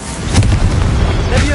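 An Expelliarmus spell fires during combat in the video game Hogwarts Legacy, a brief, loud, dense whooshing burst with a low rumble, lasting about a second and a half.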